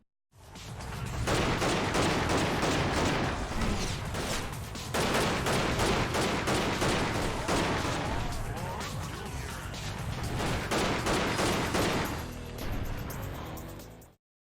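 AK rifle fire in the game El Matador, rapid bursts of gunshots packed densely together with crashes and game effects mixed in, loud and nearly continuous, with a voice faintly underneath.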